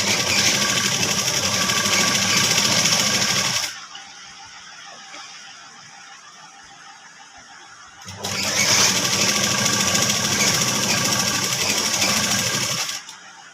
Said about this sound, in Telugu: పక్కనే పెడుతూ నీట్గా డబుల్ స్టిచ్ వేసుకోవాలండి.